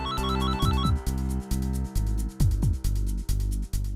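A mobile phone ringtone plays steadily and loudly from another room, a repeating electronic melody looping without pause.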